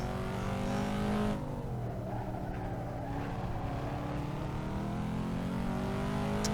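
Corvette C5 Z06 in the Assetto Corsa driving game on the Nordschleife, its V8 engine roaring loudly, then dropping in pitch through a downshift before building revs again.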